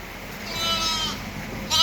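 Sheep and lambs bleat on a farm, a single drawn-out bleat close by against steady outdoor background noise.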